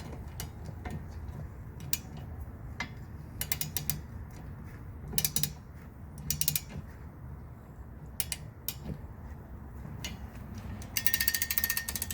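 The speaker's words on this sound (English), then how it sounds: "With a 15mm socket, tighten to 18 pound-feet." A socket ratchet tightens a 15 mm wiper arm nut on a Chevrolet Sonic, giving rapid clicking pawl bursts in uneven runs over a low background hum, with a longer dense burst of clicks near the end and no talk.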